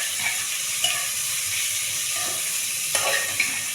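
Onions frying in a pan, a steady soft sizzle and hiss running throughout, with a few faint stirring clicks.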